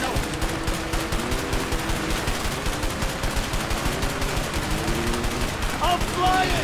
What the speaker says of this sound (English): Get the machine gun again.